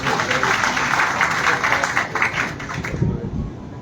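Applause from an audience at a felicitation ceremony and poetry gathering in Lalganj, Raebareli, honouring a man named Ravi; steady broadband clapping that fills most of the clip and thins out toward the end.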